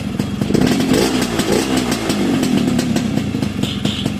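A Yamaha RXS115 motorcycle engine runs at a rough, throbbing idle just after starting, loud and close, with steady rapid firing pulses and no talking.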